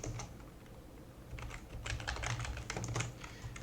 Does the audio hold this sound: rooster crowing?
no